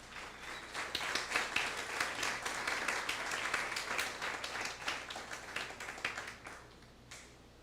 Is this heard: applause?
yes